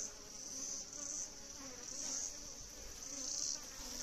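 Honey bees buzz steadily around a hillside beehive in Thola Pampa, Villa Serrano, Chuquisaca, Bolivia, a dense, close, continuous insect drone that swells and fades slightly as the bees fly past.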